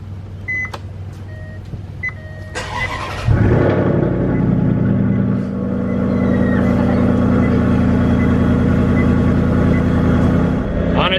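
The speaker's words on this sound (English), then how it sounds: "We're gonna do a cold start on this thing since yesterday it has not been started." Salvaged Maserati GranTurismo S cold start: a few chimes and clicks, then the starter catches and the engine bursts into a loud rev before settling into a strong, steady idle rumble close by.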